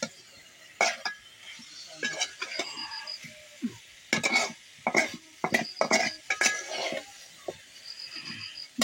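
Meat tipped into a hot pan and stirred, with scattered clinks and scrapes of a utensil against metal over a soft sizzle, irregular and close, plus some brief voices in the room.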